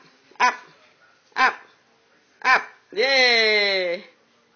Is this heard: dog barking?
yes